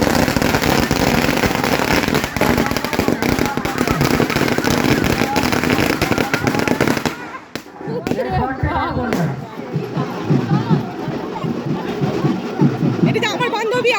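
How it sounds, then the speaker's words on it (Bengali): Firecrackers bursting at a crowded Ganga Puja fair, a loud crackling roar blending with crowd noise, then separate sharper pops once the din eases. Someone talks over it. "আর এদিকে দেখতে পাচ্ছ এত সুন্দর বাজিগুলো ফাটছে।"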